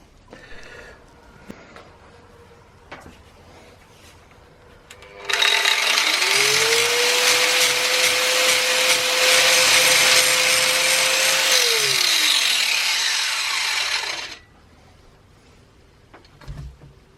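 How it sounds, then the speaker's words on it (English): Loud, steady crackling hiss of welding a bolt onto a broken stud in a Mini A-series cylinder head runs for about nine seconds over a rising and falling whine, with quiet workshop noise before and after. "I'm going to see if I can get that out by welding a bolt in it"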